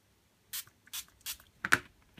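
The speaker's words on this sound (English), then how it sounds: "And spray again." Several short aerosol spray bursts hit paper roses in a craft setting, five quick hissing puffs spaced about half a second apart, close and fairly quiet.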